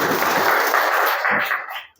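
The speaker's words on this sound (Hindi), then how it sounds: "चलिए बहुत सुंदर ताली बजाइए" A crowd in an audience claps together in a dense burst of applause that carries on steadily and then fades out over about two seconds.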